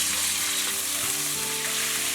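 Shredded pork drops into a wok of moderately hot cooking oil and fries with a loud, continuous hiss and crackle, steady throughout over faint background music.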